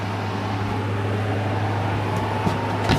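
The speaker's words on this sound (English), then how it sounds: "the air conditioner" A steady mechanical hum with a low droning tone runs throughout, from an RV air conditioner running nearby in a Forest River camper, with a faint click near the end.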